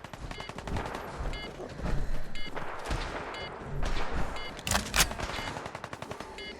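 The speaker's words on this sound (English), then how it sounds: "Why are the gunners shooting each other?" Gunners in a video game fire in sustained bursts of sharp, rapid gunshots, with overlapping volleys from several weapons crackling close and loud, interspersed with a few heavier cracks.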